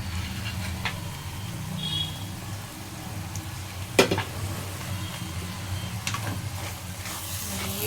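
Egg fried rice sizzles steadily in a pan over a low flame, with a soft continuous crackle, a few sharp clinks of a utensil and no voices.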